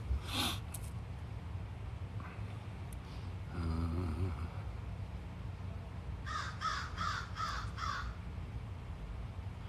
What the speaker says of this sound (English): And the crows have something to say.